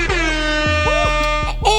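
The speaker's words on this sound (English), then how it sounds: "Air horn again." A loud air horn blares in repeated, wavering blasts, its bright tone sweeping up and down in quick bursts.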